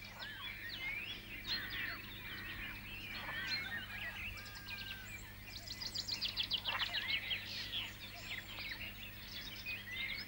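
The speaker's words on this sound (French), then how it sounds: "Ils y retrouvent les oies qui viennent regarder avec curiosité les nouveaux arrivants." Ducks and geese at a large farm pond, a busy mix of honking and quacking calls overlapping and close by, growing denser midway over a steady low background hum.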